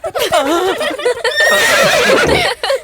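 A horse whinnies loudly and close, a long wavering neigh that fills most of the moment with little else around it.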